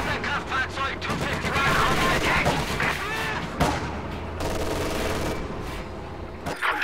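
MG-42 machine guns firing in Company of Heroes 2 during a winter battle on the Eastern Front, dense overlapping bursts and booms that fill the scene loudly and almost without pause.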